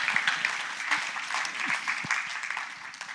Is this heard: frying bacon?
no